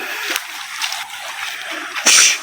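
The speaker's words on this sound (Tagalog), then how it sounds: "yan po yung sapa ng Batangas" Water in a stream in Batangas splashes and sloshes in short bursts, fairly close, with a louder splash near the end and no clear speech.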